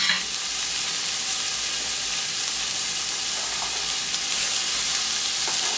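Sweet peppers fry in a pan for a Basque-style marinated grilled chicken dish. A steady, close sizzle and crackle of hot oil continues throughout with faint stirring bumps.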